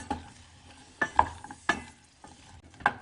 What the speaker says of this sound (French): Et maintenant on remue.